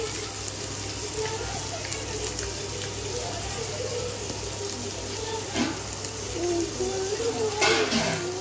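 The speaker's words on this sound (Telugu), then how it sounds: "ఇప్పుడు వాటర్ వేసుకోవడమేనండి." Water splashes and trickles steadily into a cooking pot of biryani masala, a soft continuous wash with faint sizzling underneath and a slightly louder pour toward the end.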